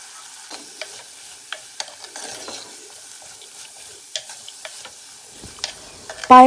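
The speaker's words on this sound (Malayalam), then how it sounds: "അതിനകത്തിലേക്ക് നമ്മൾ ഒടിച്ചു വെച്ച പയറും കൂടി ഇടുവാണ്" Broken beans go into a pan of sautéing onions, heard as a light background sizzle broken by scattered spoon taps and clicks, ending in a sudden louder clatter.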